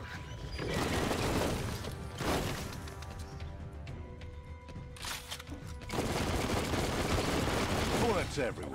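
Gunfire in the video game Biomutant: rapid, clattering bursts of shots and mechanical clicks come in two loud stretches with a quieter gap between, heavy and close amid game effects.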